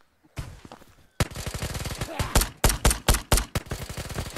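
Rapid gunfire from an online shooter game raid in a missile silo, a sharp burst of many quick shots followed by several louder, spaced single cracks close up, with no talk over it.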